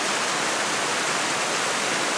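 River water flows in rural Wakayama, Japan, a loud, steady, broadband rush that carries on unbroken with no voices.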